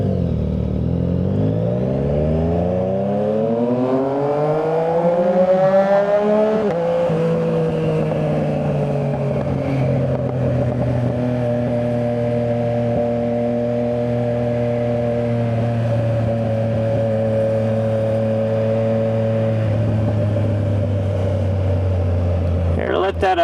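A car engine revs up through first gear, its pitch climbing steadily before dropping back and settling into a sustained, loud hum.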